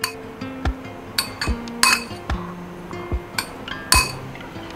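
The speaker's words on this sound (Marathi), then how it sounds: "आता हे छान ढवळून घेऊया आपण." A spoon clinks against a bowl while a cheese and onion paratha filling is stirred, giving a string of irregular sharp taps and scrapes, close and fairly loud, with no talk.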